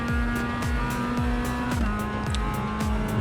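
Race cars at full throttle on the Oschersleben circuit in the iRacing simulator, one loud steady engine drone with gear shifts and repeated whooshes of other cars rushing past close by, no talk.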